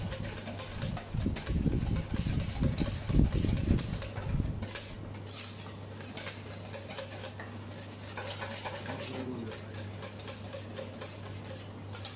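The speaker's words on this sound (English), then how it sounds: "Just keep on whisking it." A whisk beats lumpy cottonsoft cheesecake batter in a bowl, quick metallic scraping strokes, loud and close at first, then softer and steadier, with no talk over it.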